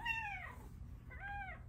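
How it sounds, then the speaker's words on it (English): A pet cat meows twice, a drawn-out falling cry followed by a shorter one after a brief pause, close and fairly clear over a low background hum. "And my cat is being really weird."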